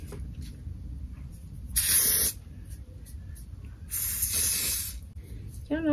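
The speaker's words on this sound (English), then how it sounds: "I'm gonna spray some of this" Two distinct hissing bursts of Ebin New York Wonder Lace Bond adhesive spray, each about half a second to a second long and close to the mic, with a person talking before and between them.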